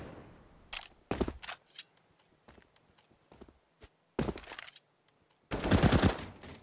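Gunfire in the video game Counter-Strike: Global Offensive, an AK rifle firing in short bursts and single shots, close and loud, with a longer dense burst near the end.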